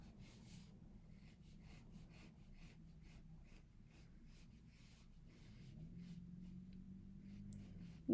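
Pencil drawing an oval on paper, a soft continuous scratching and rubbing close by, quiet and steady throughout with no talk.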